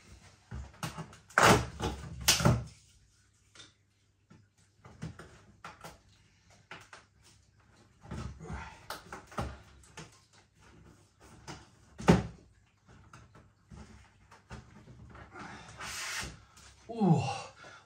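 A cardboard advent calendar door on a Christmas beer calendar is torn open with several rough scraping and ripping bursts, spaced across quiet pauses, close to the microphone.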